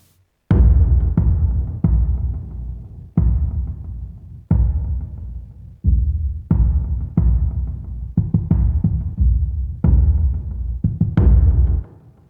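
A dark, low music loop from the Uncharted 88 library, with deep booming hits repeating in an uneven rhythm, loud and resonant with long decays and no voices.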